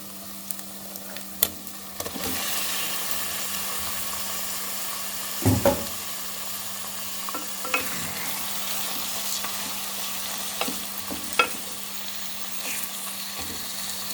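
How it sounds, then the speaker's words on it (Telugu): Chicken pieces tipped into a pan of softened tomatoes, frying with a loud, steady sizzle over medium flame, broken by a few sharp clinks and stirring scrapes, close up and without speech. "ఇప్పుడు ఇందులో మనం చికెన్ వేసేసుకుందాం."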